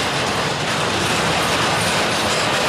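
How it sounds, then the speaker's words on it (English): An intermodal freight train rolls past close by on a windy day, a loud continuous rumble of wheels and cars with no break and nobody speaking. "whoever this intermodal is, he's basically heading towards North Baltimore"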